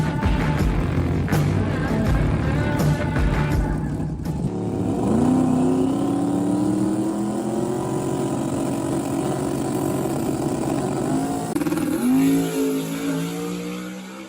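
A 1963 Ford Galaxie drag car with a twin-turbo billet Coyote V8 making over 3,800 hp revs loudly and continuously, its pitch climbing and holding, then shifting near the end, with no voices.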